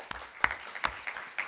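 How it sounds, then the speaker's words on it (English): Scattered clapping at a national workshop, a few sharp, separate claps standing out over quieter patter, fairly distant and brief. "And let us give a big round of applause to"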